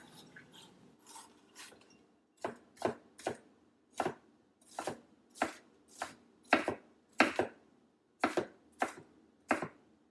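A knife chops green pepper on a cutting board for a stir fry, sharp close taps coming in an uneven rhythm, lighter at first and then firmer and more regular, with no talking.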